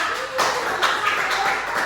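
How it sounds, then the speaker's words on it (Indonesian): Pupils in a primary school maths class clap their hands in a steady run of quick, sharp claps. The clapping sounds fairly close and fills the whole moment, with no voices clear above it. "tepuk tangan untuk kita semua"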